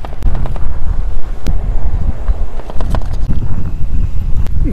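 Wind blowing steadily outdoors beside a parked electric trike, a loud continuous rumbling gust noise buffeting the microphone with a few faint clicks, no speech.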